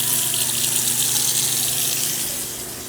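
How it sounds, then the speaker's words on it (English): Water runs from a bathroom sink faucet into the basin and newly installed drain piping, a steady, close, bright gushing stream that continues without a break. "turn on the faucet."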